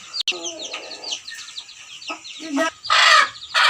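A fancy-breed chicken bought in from elsewhere gives short clucks and squawks close by, with high chirps from other birds scattered around it and a louder burst of calling near the end.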